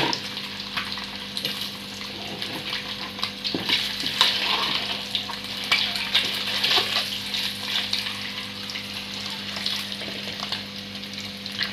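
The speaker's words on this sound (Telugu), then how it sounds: "గోల్డెన్ కలర్లోకి వచ్చేదాకా అవి లైట్గా వేయించుకొని" Paneer and eggs fry lightly in oil until golden, a steady close sizzle with bursts of crackle and occasional stirring scrapes over a faint constant hum.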